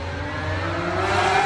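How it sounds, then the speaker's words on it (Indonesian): A car speeds along, its engine revving and rising steadily in a brief, close, smooth whine as it accelerates toward a child. "Bocil itu tidak melihat sebuah mobil yang melaju"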